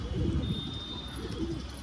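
Low, soft pigeon cooing rolls on steadily, a murmuring burble from a few birds close by, with a faint high tone lingering in the background.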